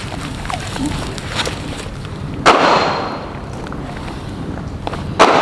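A gunshot fired at Level IIIA body armor by BAD International lands as a sharp, loud report partway through, with a second abrupt blast near the end over steady outdoor background noise.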